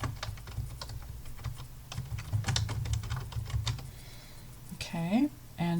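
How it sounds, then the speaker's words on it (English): Fingers type on a computer keyboard in rapid, close key clicks and short bursts, with a low hum underneath and a brief voice near the end. "So I'm going to go back to my screen and type in the author's name."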